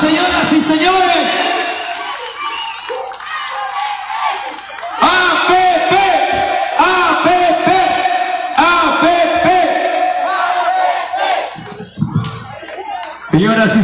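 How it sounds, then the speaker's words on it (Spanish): Crowd at a political candidate presentation clapping and cheering, bursts of applause with whoops and shouts rising loudly and continuing, mixed with an announcer's amplified voice. "¡Fuerte las palmas, señoras y señores!"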